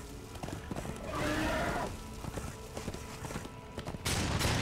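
Horse galloping in the video game Darksiders II, a rhythmic run of hoofbeats under game ambience with a brief swell mid-clip and a louder burst near the end.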